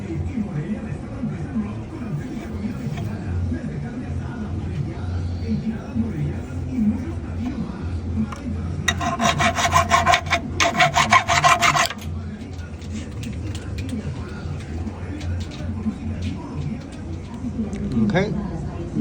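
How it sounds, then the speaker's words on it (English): Rasping, scraping strokes of slag being cleaned off a flux core weld on a 1970 Nova, a steady rubbing with a brighter, harsher burst of rapid scraping in the middle, heard over background noise and talk. "I'm gonna clean out all that slag."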